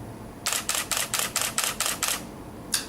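A Canon 60D DSLR fires a rapid burst of eight crisp, evenly spaced shutter clicks, then one more click after a short pause, close and clear against a quiet room.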